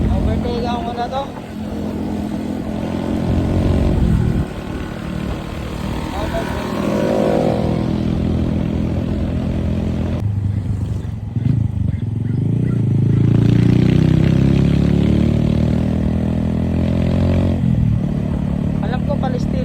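A motorcycle engine climbs steadily as the rider pulls out to overtake, with a sustained roar rising in pitch midway, road and wind noise running throughout and a voice speaking over it.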